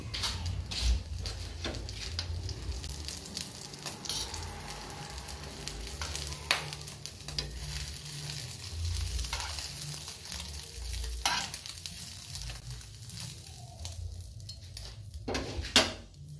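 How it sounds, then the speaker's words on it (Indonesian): Pindang fish frying in a pan for a home-cooked Indonesian meal, steady oil sizzle throughout with stirring and occasional clanks of utensils on the pan, close up and continuous without talk. "Goreng pindang ya."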